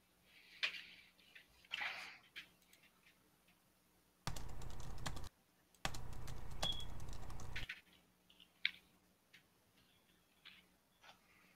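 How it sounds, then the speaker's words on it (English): Fingers tap on a computer keyboard in sparse, irregular clicks, broken by two loud blocks of harsh handling noise in the middle, then more scattered keystrokes. "Hold on, let me get a better grip on my keyboard."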